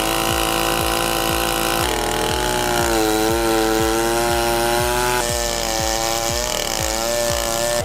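A rebuilt Stihl 090 AV chainsaw bites into an oak root ball, its engine droning loud and steady at low revs with a rhythmic chugging pulse as the chain works through the wood, no voices.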